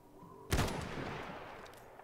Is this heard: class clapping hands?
no